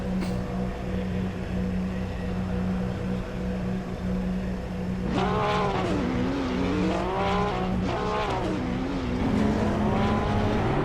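Porsche Cup race cars rumble through a formation lap, a steady engine drone rising into repeated revving sweeps from a nearby car as the pace builds.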